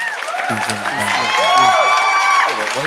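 A crowd cheers and applauds, with whoops and shouted voices layered over steady background clapping, the noise swelling in the middle and easing toward the end.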